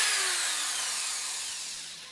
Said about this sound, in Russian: И шуруповерт начинает крутиться по часовой стрелке.